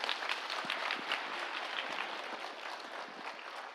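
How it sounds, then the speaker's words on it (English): Audience applause for musicians after a slide guitar concert and music meditation inside a pyramid, a dense steady wash of many hands clapping that stays fairly even and fills the whole stretch. "Let us give a big clap for our artists who have performed today."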